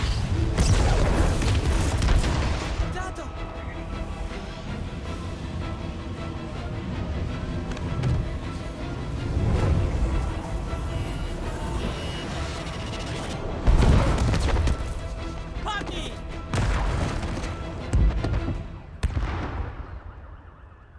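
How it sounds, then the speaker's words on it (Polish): Loud booming fireworks blasts and crackling bursts in the Spider-Man video game, over a dense, ringing game soundscape, with several big explosions spread across the clip. "No niezłe fajerwerki."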